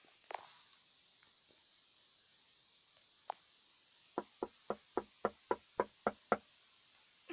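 Knocking on a door at 3 a.m. starts with a couple of isolated raps in a quiet room, then comes as a run of about ten crisp, evenly spaced knocks.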